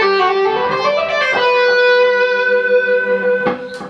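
Electric guitar plays a legato ascending lead phrase, notes sliding and flowing upward in a smooth run with a distorted, sustained tone, close and unaccompanied.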